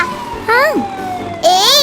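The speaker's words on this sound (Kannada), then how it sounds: "ಫೈರ್ ಇಂಜಿನ್ ಬರ್ತಾ ಇದೆ" A toy fire engine siren wails in short rising and falling bursts, loud and close, with a pause before a second bright, warbling burst.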